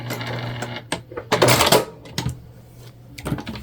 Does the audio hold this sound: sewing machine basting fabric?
yes